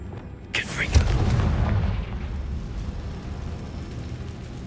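A Confringo fire spell bursts in Hogwarts Legacy with a sharp whoosh and a deep booming explosion, followed by a rumbling tail that slowly settles into low background noise.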